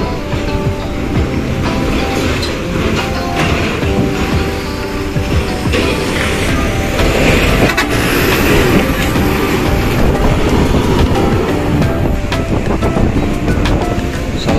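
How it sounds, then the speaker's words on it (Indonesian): Heavy vehicles roll past at Merak port amid rough sea conditions, a loud, dense rumble with clattering and rushing noise that swells and rises as an Executive Class coach passes close by. "Selanjutnya diikuti unit keempat Rosalia Indah Executive Class tujuan Klaten keberangkatan dari Palembang."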